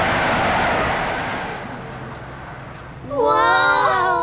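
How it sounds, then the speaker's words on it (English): A fast cartoon train whizzes past in a Tayo the Little Bus episode, a loud rushing sweep that fades over a couple of seconds before a bright musical sting takes over. "Watching the fast train whiz by, Tayo loses hmm. confidence again."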